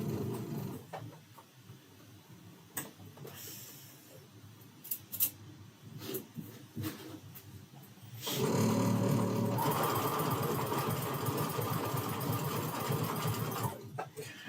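A sewing machine stitches in a steady, whirring burst in the second half, preceded by quiet clicks and handling noises, fairly close with no talk.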